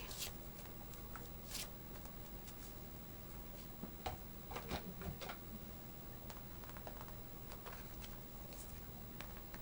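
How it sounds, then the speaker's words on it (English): Tarot cards are shuffled and handled, giving soft, quiet riffling and scattered light flicks and taps over a low background hiss. "let's pull 3 cards quickly"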